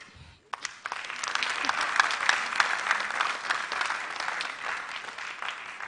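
An audience at a school quiz mentorship session applauds steadily for several seconds after a brief quiet start, the clapping dense and sustained at a moderate level.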